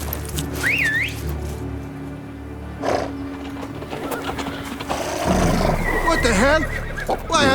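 A horse whinnies in the video game Witcher 3: Blood & Wine with a rising, wavering call over a busy soundscape of music and background noise, followed later by more animal cries.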